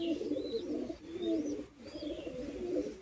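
Soft cooing from a male pigeon repeats in a low, rolling rhythm, fairly close, with a few faint higher chirps over a light background hiss.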